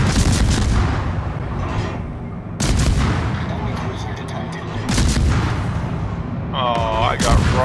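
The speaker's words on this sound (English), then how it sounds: "Nice explosion" Heavy booming naval gunfire from large warship guns in World of Warships, several blasts at intervals with rumbling tails, loud and close, under a dense battle soundscape.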